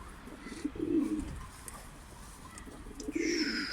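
Male pigeons coo in low, throaty rolling phrases, two bursts close by, with a higher bird call joining near the end.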